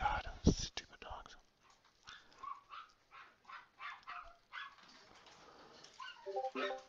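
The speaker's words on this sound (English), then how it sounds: "Oh my God, stupid dogs." Dogs bark, yip and whimper in a series of short, fairly quiet bursts, with soft talking close by.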